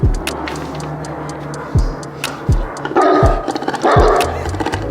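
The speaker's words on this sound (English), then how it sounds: "Newfies are like water dogs actually" A Newfoundland dog out in the snow barks about five times in deep, loud, close woofs spaced a second or so apart, with some rustling between them.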